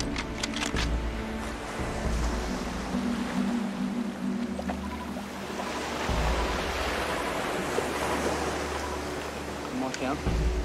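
Boat engines at half ahead, both running at about 1000 revolutions, rumble steadily at sea beneath wash and water noise, with a low continuous drone and some voice chatter over it.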